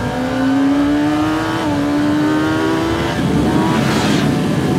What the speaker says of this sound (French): On redresse la moto, on accélère, on me bloque cette poignée à fond là.